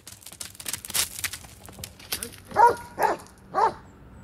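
A dog at a military barracks barks three times in a steady rhythm, the barks fairly close and clear after a stretch of faint background noise.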